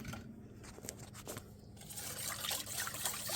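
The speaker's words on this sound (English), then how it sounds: "Let's give it a stir." Homemade copycat teriyaki sauce being stirred, a soft liquid swirling and trickling close by, quiet at first and then growing a little louder and busier.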